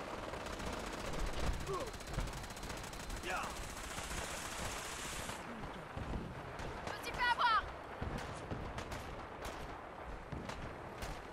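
Fallout 4 gunfire rattles in steady bursts under a voice talking, mid-distance and moderately loud, with a sharper metallic burst partway through.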